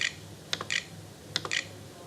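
A computer keyboard is tapped in a few short bursts of quick key clicks, separated by pauses, in a quiet room.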